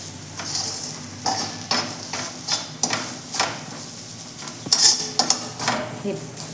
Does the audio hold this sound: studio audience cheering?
no